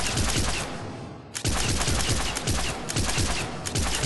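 An arc pistol in Mass Effect 3 fires from the hip in fast, dense bursts, loud and continuous, with one brief pause before rapid firing resumes.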